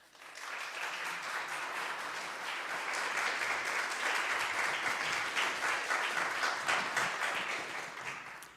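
A lecture audience applauds to welcome author Richard Higgins, a sustained, even wash of many hands clapping. It swells quickly and holds steady for several seconds before tapering off.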